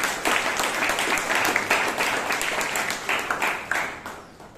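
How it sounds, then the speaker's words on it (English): A Toastmasters meeting audience in Bangalore claps together in a full, dense round of applause, steady for several seconds before starting to thin out and taper at the end. "give a round of applause to ourselves"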